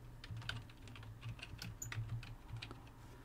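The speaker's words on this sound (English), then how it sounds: "put my cursor in there, and I'm going to type control panel" Rapid typing on a computer keyboard in a home or office setting, a steady patter of light key clicks over a low background hum, close and moderately loud with no talking.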